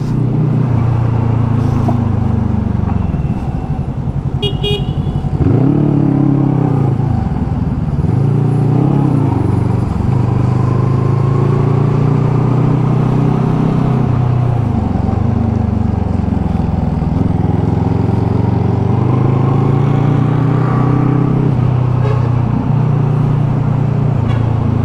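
A vehicle engine runs smoothly and steadily, a loud low hum with gentle rises and falls in pitch, no talking.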